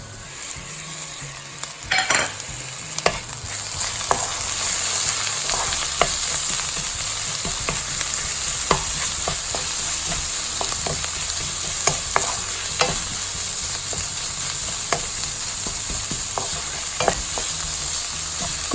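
Onions, grated ginger and garlic fry in a pan for a spinach and potato curry, giving a constant close sizzle broken by regular scraping stirs, with no voices.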